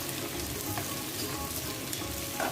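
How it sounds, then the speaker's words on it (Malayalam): Finely chopped onions sautéing with cumin seeds in a pan, giving a close, steady sizzle and crackle with light stirring throughout. "ഒരു 3 സവാള ചെറുതായി അരിഞ്ഞത് ഇട്ട് കൊടുക്കാം. നന്നായി ഒന്ന് വഴറ്റി കൊടുക്കണം."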